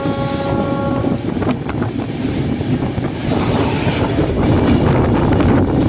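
The Vaishali Express passing at a crossing, a loud close rumble of wheels and carriages with rattling clatter and a brief horn-like tone at the start, continuous throughout.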